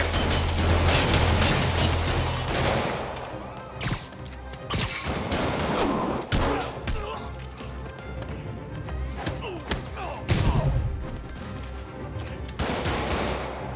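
Bursts of thugs' gunfire in the Marvel's Spider-Man video game, loud and chaotic, mixed with crashes and impacts and at times overlapped by shouting voices.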